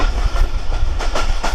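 A passenger train runs through hilly farmland in Pakistan, heard from inside with a loud, close, rhythmic clickety-clack of wheels over rail joints beneath a constant rumble.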